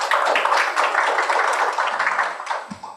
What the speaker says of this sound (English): they definitely need a bigger round of applause